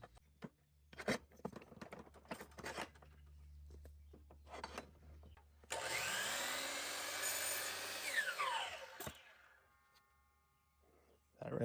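A DEWALT DWS779 miter saw cuts PVC wood: after some clattering handling noises, the blade spins up loudly and bites through the board for about three seconds, then winds down.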